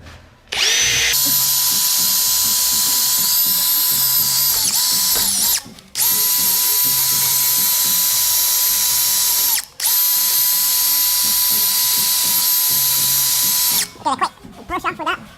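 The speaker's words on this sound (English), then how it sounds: "I'll stick in my drill and I'll just give it a quick" A power drill spins a wire brush attachment on a Honda Civic EP3 Type R in long, loud, steady runs, pausing briefly twice before a final stop with some clatter.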